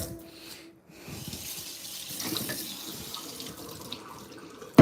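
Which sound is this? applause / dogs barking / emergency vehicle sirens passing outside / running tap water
running tap water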